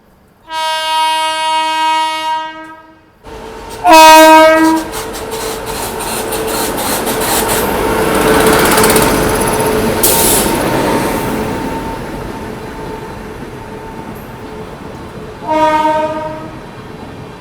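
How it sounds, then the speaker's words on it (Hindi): The Sachkhand Express rolls slowly past while overtaking, heard from alongside on another train. A long loud horn blast opens, then a steady rumble and clatter of wagons fills the middle, and a shorter horn sounds near the end. "अब जाके सचखंड एक्सप्रेस आ रही है धीरे धीरे।"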